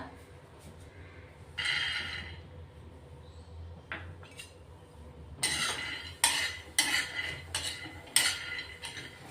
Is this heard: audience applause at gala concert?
no